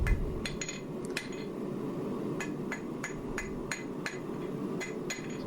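A hammer strikes drill rod on an anvil to forge the taper and tip of a kiridashi knife, with about a dozen sharp ringing blows at a steady pace over a continuous roar, no voices.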